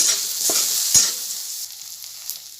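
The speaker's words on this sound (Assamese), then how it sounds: "সকলোখিনি ভালদৰে লৰাই ল'ম।" Butter, chopped onion, crushed garlic and sliced tomato being stirred and fried in a pan, a continuous close sizzle with a couple of sharp spoon knocks against the pan early on.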